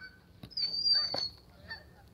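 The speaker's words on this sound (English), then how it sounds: "This stupid male is honking for Karen." A male goose honks loudly in a sustained harsh call, with shorter honks and squawks before and after, close by outdoors among pet geese and ducks.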